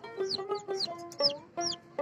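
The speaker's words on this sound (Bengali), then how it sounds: "তারপরে হচ্ছে ফাউমি মুরগি আমার এখানে আছে 5 পিস" Several Fayoumi hens cluck close by on a rooftop garden, short nasal calls repeating in quick bursts with brief gaps, no other sounds over them.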